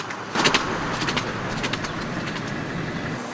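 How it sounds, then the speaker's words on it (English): Diesel train hauling bins of sugar cane billets to the mill, a steady rumbling rush of wheels and engine with squeaky metallic screeches and clatters, close and moderately loud throughout. "The cane billets make their trip to the mill by modern diesel-powered trains."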